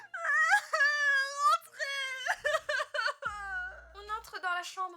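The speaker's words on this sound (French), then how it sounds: "Elle est en train de pleurer sur son petit canapé." A woman cries and wails on a small sofa in a bedroom, with long quavering, high-pitched moans broken by sobbing gasps and short whimpers, loud and close throughout.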